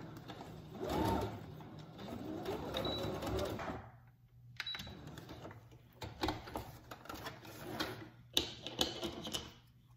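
Cloth face mask being sewn on a sewing machine, bursts of rapid mechanical stitching clatter with short pauses between runs, close and moderately loud.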